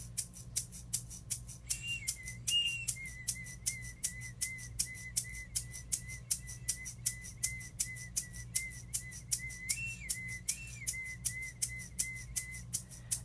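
A hand rattle shaken in steady, rapid pulses during a plant-spirit song ritual, close and even, while a whistled melody floats over it.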